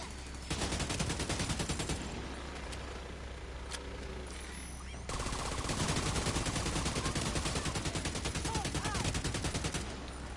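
Turret gunfire in a video game: rapid, continuous automatic shots rattling in a dense stream, moderately loud with a steady low hum beneath, briefly easing then resuming heavier.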